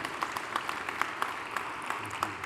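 Audience applause for award recipients at the Robert E. and Jenny D. Kirkland Discovery Award ceremony: faint, steady patter of many hands clapping, with scattered sharper claps standing out, no voices.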